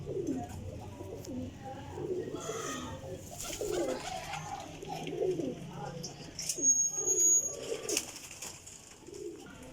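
Pigeons coo softly in low, throaty bursts, with a few higher chirps and light rustling, and a voice talking quietly in the background.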